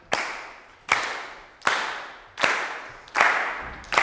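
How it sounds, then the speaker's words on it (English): A group in a percussion masterclass claps hands together in unison, six sharp, evenly spaced claps about 0.8 seconds apart, each with a quick decay, close and clear with no talking. "Can we all just like clap together?"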